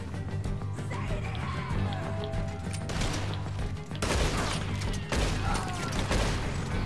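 Gunfire in the video game Red Dead Redemption 2, a dense, loud, chaotic barrage of shots and crashes that surges in bursts, with game voices faintly in the mix.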